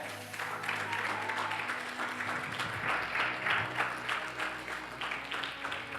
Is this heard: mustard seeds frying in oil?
no